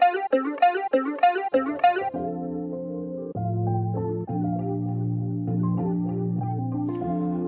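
Hip-hop beat with short plucked lo-fi piano stabs that give way to a sustained, lower sample entering after a few counts, played alone and fairly loud with no talking; hi-hats are not clearly picked out.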